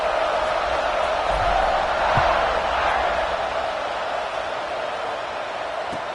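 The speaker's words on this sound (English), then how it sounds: "this crowd is buzzing after that last score" A football stadium crowd buzzes after a touchdown, a steady dense roar of many voices with faint cheering, heard from a distance and filling the whole span.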